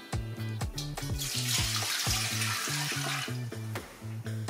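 Water runs from a tap into a very big pot with a rushing splash while rhythmic background music plays underneath throughout.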